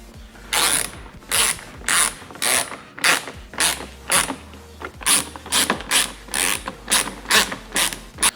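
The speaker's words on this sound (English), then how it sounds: "So let's get this screw back installed to hold the lip on." A hand ratchet drives a bumper screw back into a Lexus ISF, clicking in a steady run of about fifteen close, loud bursts with short pauses between strokes.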